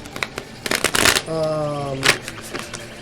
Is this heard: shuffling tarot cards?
yes